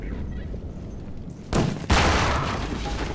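A grenade launched from an SMG in Half-Life 2 on Highway 17, a sharp loud boom followed by a second blast that rings out and decays over a low rumble.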